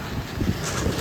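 Strong wind buffets the microphone on the coast at the white cliffs of Dover near St Margaret's Bay, with the sea's steady roar behind it in a dense, continuous wash of noise and no voices.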